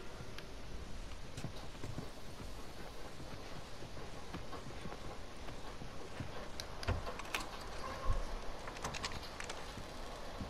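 Horses' hooves clip-clop steadily in the video game The Last of Us, a continuous trotting rhythm over wind and ambient outdoor noise, moderately close with a few louder thuds.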